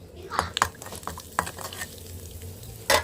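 Eggs with turmeric and chili fry in a pan under a soft sizzle, broken by sharp clinks and scrapes of a spoon stirring against the metal, with a louder clatter near the end.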